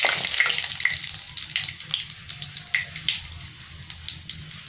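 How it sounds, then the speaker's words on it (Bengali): Whole bay leaf, dried chilli, green cardamom, cloves and a cinnamon piece crackle in hot oil for Bengali chicken kosha, a light steady sizzle with small popping bursts close by, no talking. "সব মশলাগুলো আমার ভাজা হয়ে গেছে"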